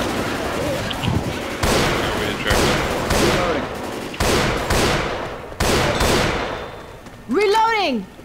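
Gunfire in Left 4 Dead 2, with a run of sharp, loud shots at irregular intervals, each decaying quickly, plus a brief voice near the end.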